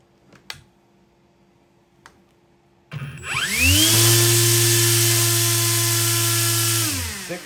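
RC electric motor spinning an 11.5-inch three-blade 3D-printed folding propeller on a thrust test stand: after a couple of faint clicks it whines up sharply, holds a loud steady buzzing drone, then spins down near the end.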